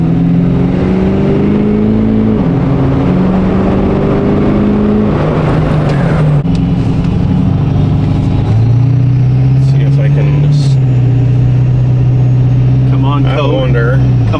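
The engine of a used Ford 6.7L Powerstroke diesel truck, which has fuel problems, drones loudly and steadily from inside the cab while driving, shifting pitch as it works, with people talking over it.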